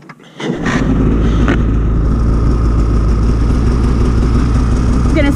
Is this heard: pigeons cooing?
no